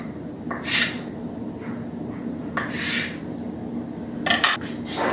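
A knife cuts tofu into very thin slices on a board, making a few soft, scattered taps and scrapes against a quiet kitchen background with no talking.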